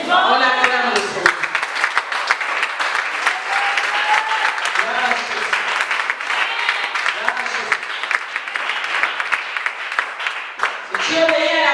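A church congregation applauding the Lord, dense sustained clapping that fills the room, loud and close, with voices and cheers mixed in at the start and end.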